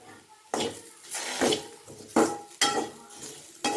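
Chopped tomatoes fry with masala in a pan, heard as repeated close scraping and clattering stirring strokes over a light sizzle.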